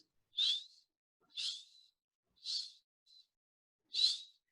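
A person imitates a male wood duck's call, giving four rising whistled squeals spaced about a second apart plus one short faint note, each clear and isolated against silence.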